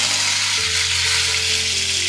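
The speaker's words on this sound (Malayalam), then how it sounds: "കടുക് പൊട്ടി" Mustard seeds spluttering in hot oil, sizzling and crackling steadily in a pan, with a low hum underneath and no voices.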